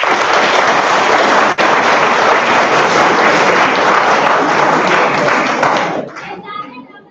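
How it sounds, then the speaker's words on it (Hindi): A seminar audience in India claps loudly to welcome guests: dense, steady applause for about six seconds, then fading to scattered claps and a few voices. "तालियों के साथ स्वागत करें इनका"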